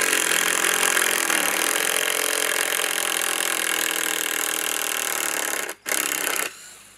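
A power tool loosens the bolts on a Kockney Koi Widemouth skimmer, giving a loud, steady, broadband whir that runs almost unbroken and then stops abruptly near the end, with no talking over it.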